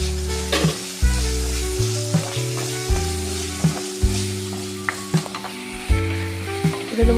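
Spices and soaked kudampuli fry in a pan for sardine curry, a steady sizzle with regular scraping stir strokes about once a second, close and fairly loud, no talk.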